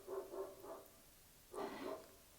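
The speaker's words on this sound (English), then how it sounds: "Dogs barking." Several dogs bark faintly in the distance, a quick run of three yaps, a pause, then another cluster of barks, each burst short and thin against a quiet background.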